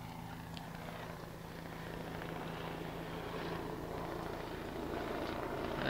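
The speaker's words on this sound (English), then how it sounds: "the JDF helicopter, I guess they're doing some training exercise" A Jamaica Defence Force military helicopter passes overhead during a training exercise near the Port Royal Street seafront in downtown Kingston, a steady rotor drone that swells gradually louder over several seconds, with a low hum throughout and no talking.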